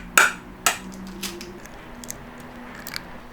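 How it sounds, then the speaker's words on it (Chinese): A free-range egg is tapped against a bowl of marinated chicken breast, giving two sharp, close knocks in quick succession, followed by faint handling sounds. "敲一个土鸡蛋在里面哈"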